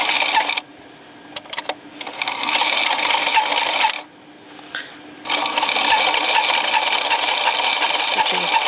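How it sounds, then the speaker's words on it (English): A sewing machine stitches along the raw edge of apron fabric in loud, steady bursts of rapid whirring, stopping twice briefly with small clicks between runs. "So we're gonna stitch as close to that raw edge as we can."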